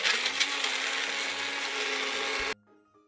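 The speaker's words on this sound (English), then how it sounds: "I'm blending ice" An electric blender crushing ice runs loudly with a dense grinding, rattling roar for about two and a half seconds, then cuts off abruptly into near quiet.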